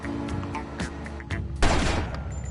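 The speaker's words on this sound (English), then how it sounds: "Stop shooting." Gunfire in Grand Theft Auto: Vice City, several sharp shots spaced out over a game backdrop, then a louder, denser burst of fire near the end.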